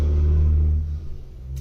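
A passing vehicle's low rumble swells and fades outside, a steady roar of traffic heard at a moderate distance.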